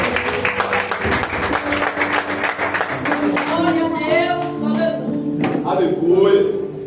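A church congregation applauds during an evening service with a burst of dense clapping for about three seconds, which then fades under singing and talk.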